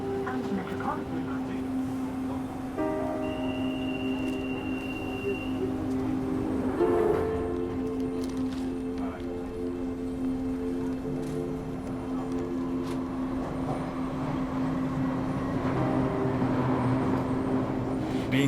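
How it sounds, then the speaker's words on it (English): A London Underground Central Line train to West Ruislip runs with a steady rumbling roar and sustained tonal whine from the motors. A faint voice is heard partway through. "This is a Central Line train to West Ruislip"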